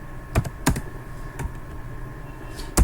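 Fingers tap out words on a computer keyboard in a handful of sharp, close keystrokes with short pauses between them, over a quiet steady hum.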